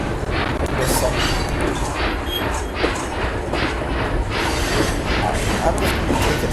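Train rolling along the track in the railway game Trains And Railroads, a steady rumble with faint rhythmic clatter and mechanical clicks running throughout, no one talking.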